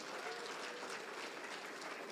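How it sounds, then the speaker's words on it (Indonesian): An audience applauds at a business leadership gathering, a broad, steady clatter of many hands, faint and distant, with no clear talk. "Tepuk tangan teman-teman sekalian."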